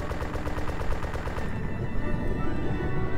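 Rapid aircraft strafing gunfire in Arma 2 DayZ rattles in fast, evenly spaced bursts, loud and dense, then gives way to a rumbling, crackling wash of engine and impacts with no talk.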